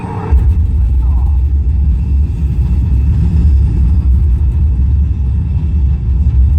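Deep, steady engine rumble of a simulated rocket launch on the Mission Space ride at Epcot, Walt Disney World, a loud continuous low roar that holds without a break throughout.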